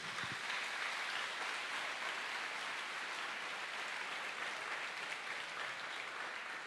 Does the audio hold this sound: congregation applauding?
yes